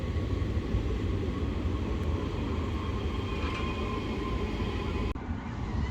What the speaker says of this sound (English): And here is a tram.